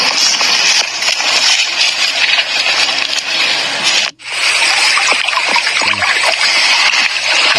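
River water splashes and rushes steadily and loudly close by, a dense continuous wash broken by one brief dropout midway, with no speech over it.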